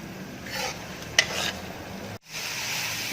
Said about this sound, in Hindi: इसको तेज आंच पे आपने अच्छी तरह इसको भूनना है।